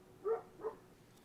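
Two short dog barks, a little whiny, sound at a moderate distance outdoors, one after the other with a short gap between them, against quiet background noise.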